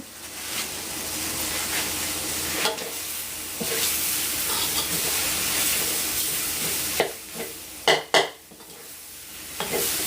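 Pork frying in oil in a pan, a continuous close hiss and sizzle with occasional stirring scrapes, ending in a few sharp louder clatters of utensil against the pan, no voices.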